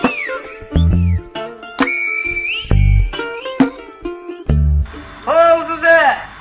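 Whistled language of Aas in the Pyrenees, with sliding, speech-like whistled phrases over a recording that also carries loud intermittent low thumps and a clear voice, ending in wavering high whistles.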